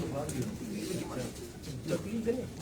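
Domestic pigeons coo in low, rounded murmurs from a rooftop loft, several birds overlapping close by while people talk over them.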